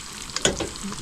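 Eggs frying in a pan over a campsite stove by a river, giving a brief, soft sizzle broken by a couple of quick scraping clicks from the pan.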